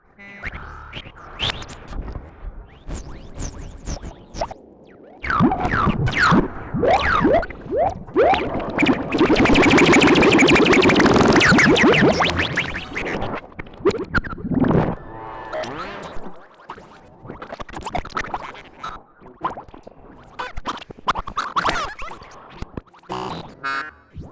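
Raw Make Noise Strega modular synthesizer tones, warbling and glitchy, swelling into a dense noisy burst midway before thinning back to scattered blips.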